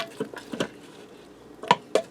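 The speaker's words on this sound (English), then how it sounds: "I'm going to fold it into our ground beef" Frozen cheese tortellini being folded into ground beef in a pressure cooker: a few close utensil knocks and soft squishy scrapes against the metal pot, spaced irregularly.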